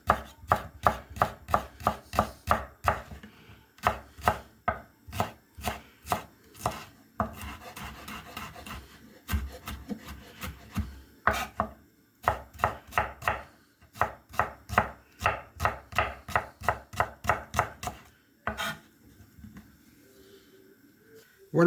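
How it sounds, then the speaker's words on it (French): Rapid, steady knife strokes mincing shallots on a cutting board, crisp close taps in quick bursts with brief pauses between runs. "Voilà mes échalotes émincées."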